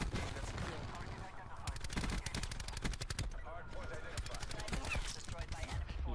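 Rapid machine-gun bursts in Call of Duty: Black Ops 4 multiplayer, loud and close, firing in repeated volleys with short pauses, with player voices talking over the shooting.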